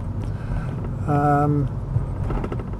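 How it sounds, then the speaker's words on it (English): A Volvo 850 T5 GLT estate's engine idles steadily close by, a low continuous rumble, with a brief tonal whine rising over it midway. "Engine sounds nice, no unpleasant noises from the engine"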